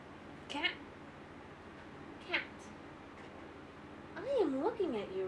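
A pet cat meows indoors: two short, faint meows a couple of seconds apart, then a longer, wavering drawn-out meow, all over a quiet background hum.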